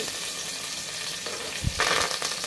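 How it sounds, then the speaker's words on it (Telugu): Mint, curry leaves and green chilies frying in hot oil in a pan, giving a steady loud sizzle with brief stirring clatter near the end, no voices. "ఇప్పుడు ఇందులోకి పుదీనా కరివేపాకు"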